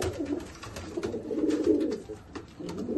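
Pigeons coo continuously inside a dark loft, layered low rolling calls from several birds close to the microphone, without speech.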